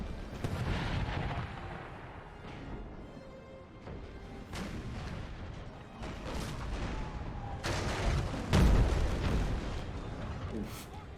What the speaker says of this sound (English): A lot of 3rd Corps is buckling under that sustained artillery fire